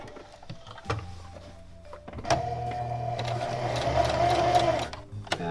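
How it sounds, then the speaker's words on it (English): A sewing machine stitches a hem on raw selvage denim jeans, starting with a few clicks, then running in a steady, close mechanical whir for about three seconds before stopping. "Machine is on."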